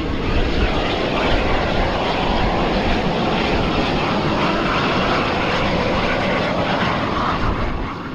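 A loud, continuous roar of rushing steam from a high-altitude geyser in Bolivia, broad and steady like a jet engine, sustained throughout without pause and with no voices.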